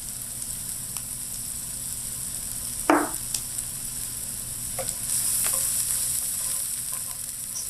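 Garlic frying in a pot for beef chili gives a faint, steady sizzle, with a single sharp utensil scrape partway through and a few soft clicks.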